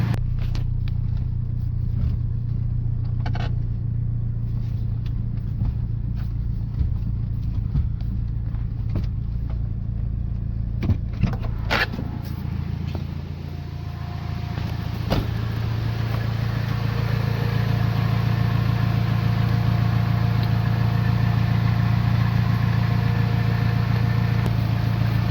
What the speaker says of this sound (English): I'm just going to drive the car and just drive it a little bit so the wheel spins